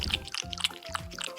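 Water pours in a short, close trickle with bubbly gurgling and a few bright droplet splashes, lasting just over a second with no talking.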